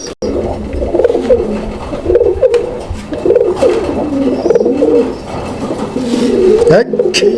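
Raj-golla pigeons coo in repeated low, throaty rolls, fairly close and steady, with someone talking over them throughout.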